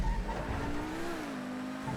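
A car driving a lap in the GTA video game, its engine droning steadily with a rising and falling tone and a rougher burst at the start, no talk.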